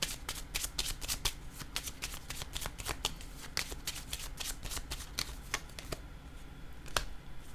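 Playing cards in a card reading are handled and laid down in a rapid flurry of crisp flicks and slaps, dense at first and then thinning out to a few sharp snaps near the end, close by with no voices.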